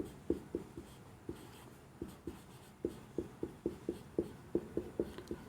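A pen or pencil writes on an engineering drawing sheet in quick sharp strokes and taps, separated by brief pauses, close and clear with nobody talking.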